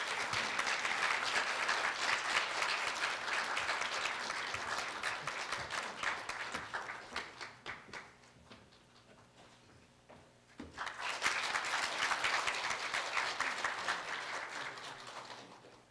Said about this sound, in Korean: 홍성훈 회장님을 큰 박수로 모시겠습니다.